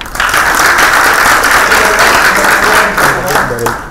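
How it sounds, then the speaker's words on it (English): A conference hall crowd at an international public procurement opening ceremony gives loud, dense, sustained applause. A voice briefly rises near the end. "very warm applause for speakers"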